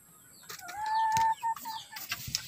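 A brooding hen in a breeding cage, sitting on five eggs, gives a few soft clucks and one drawn-out tonal call, close by and fairly quiet, with no talking.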